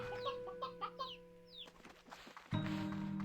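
Chickens and a rooster clucking in the Slime Rancher video game, several bird calls and clucks overlapping in a busy farm coop, a louder burst of game noise joining near the end.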